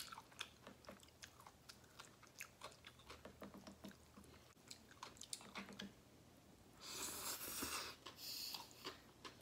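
Close chewing and slurping of spicy Korean mixed noodles (bibim guksu), a steady run of wet, crunchy bites and clicks, then a louder burst of rustling or slurping near the end, with no talking.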